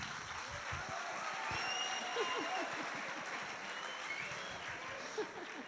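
An audience at a talk on the power of words claps steadily for several seconds, a dense patter of many hands, moderately near, with a few louder individual claps standing out.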